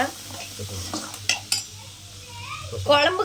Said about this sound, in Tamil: கட்டை பூண்டும் நான் இப்போ எண்ணெயில் போட்டு வதக்க போகிறேன்